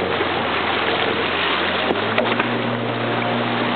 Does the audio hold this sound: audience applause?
no